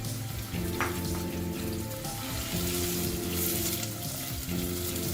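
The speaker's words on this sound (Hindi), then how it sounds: "मैं इसके अंदर प्याज डाल दूंगी।" Sliced onions frying in hot oil in a pan, a steady close sizzle and crackle with some stirring, continuous throughout.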